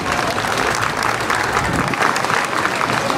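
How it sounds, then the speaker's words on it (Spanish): Loud, sustained applause from a crowd at an outdoor patron saint festival with horse races, clapping steadily without pause. "Recibamos con un fuerte y caluroso aplauso"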